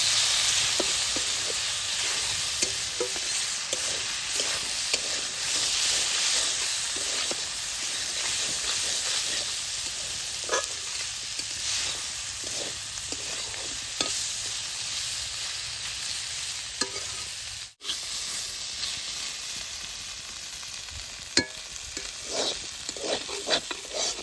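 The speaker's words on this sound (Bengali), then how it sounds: "বেশ সুন্দর করে এরকম করে নাড়ুম।" Ivy gourd being stirred as it fries in a pan with turmeric and salt, giving a steady, close sizzle with occasional scraping and stirring clicks throughout.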